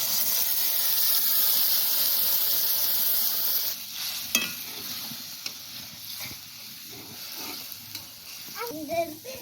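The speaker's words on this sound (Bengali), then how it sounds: "এখন বিকেল বিকেলে রান্না করতেছে মারিয়া বিকেলের খাওয়া" Food frying and sizzling in a pan for an afternoon meal, a steady loud hiss that eases after a few seconds into quieter crackling, with a few clinks and a brief voice near the end.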